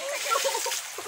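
Water is thrown and splashes during an outdoor challenge game. It is a brief, close slosh and splatter with people talking over it.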